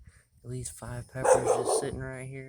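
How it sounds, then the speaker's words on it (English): A dog barks in short bursts somewhere in a backyard garden, mostly under a person talking close by, with the barks fairly faint behind the voice. "That's my dog barking."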